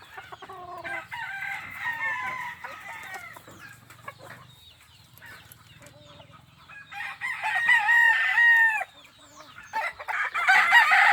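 Several roosters crow in long, drawn-out calls that overlap and follow one another, some near and some farther off, with occasional clucking in between, among gamefowl offered for sale.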